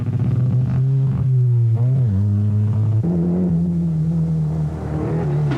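Paul Kirtley's Ford Sierra rally car on a stage of the 1992 Tour of Mull, its misfiring engine droning loud and close with an uneven, wavering pitch.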